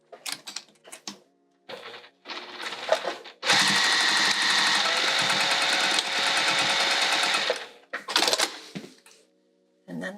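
A sewing machine stitches a bag lining in a long, loud, steady whirring run of several seconds, framed by shorter bursts and handling noises before and after.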